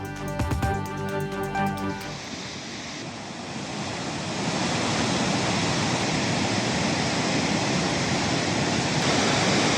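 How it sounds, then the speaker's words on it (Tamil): Manimuthar waterfall in Tirunelveli district in heavy flood, a dense, steady roar of rushing water that swells and holds after a short burst of bright musical tones. "நெல்லை மாவட்டம் மணிமுத்தாறு அருவியில் கடும் வெள்ளப்பெருக்கு"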